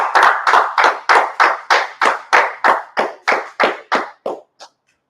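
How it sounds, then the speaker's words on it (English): A single person claps by hand about fifteen times in an even rhythm, close and loud, slowing slightly and fading before stopping. "Clap it up."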